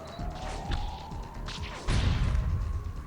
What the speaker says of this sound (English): Here come the explosions.